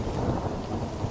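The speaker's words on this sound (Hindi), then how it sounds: "तभी आसमान में एक जोरों की बिजली कड़की।" A cartoon rainstorm rumbles with a loud, deep roll of thunder over steady falling rain, with no voices heard.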